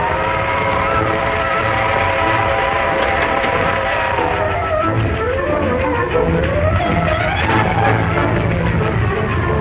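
A train rumbles past with a continuous loud roar, its horn or whistle sounding in long sustained tones over the mechanical noise, steady and close throughout.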